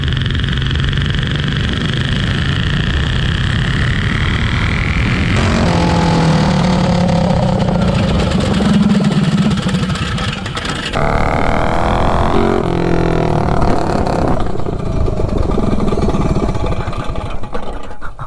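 A mini bike engine fitted with an aftermarket exhaust runs loud and close, holding a steady buzzing drone, then shifting pitch as it revs up and down over the stretch.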